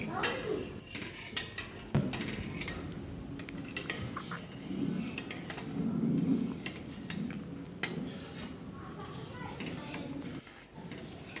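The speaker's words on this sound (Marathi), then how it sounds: "साखर विरघळेपर्यंत मी याला हलवून घेणार आहे।" Sugar syrup being stirred in a pan until the sugar dissolves, with soft repeated scraping and light clinks of a spoon against the metal, fairly quiet and close.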